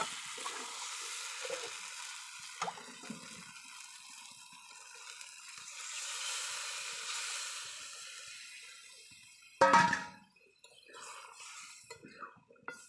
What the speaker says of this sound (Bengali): আমি এটার মধ্যে এখন জল দিয়ে দেবো